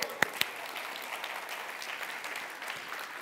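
Studio audience applause on a French-language talk show greeting guests in the crowd, a steady moderate clapping that follows two sharp close claps at the start.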